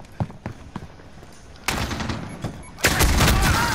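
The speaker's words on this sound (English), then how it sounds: "my grenade literally just blew up next to me" A grenade explodes close by in Call of Duty: Modern Warfare, with two loud, sudden booming blasts rising from a quieter stretch of scattered clicks and thuds.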